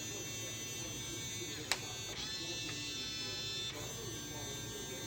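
A Samsung SmartThings deadbolt lock's motor runs during setup, a steady buzzing whir lasting several seconds with a couple of brief clicks, close by and fairly quiet.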